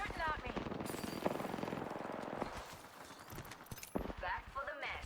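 Rapid automatic gunfire in a video game, a steady rattle of shots running beneath constant game voices and other speech, with sharper bursts cutting through now and then.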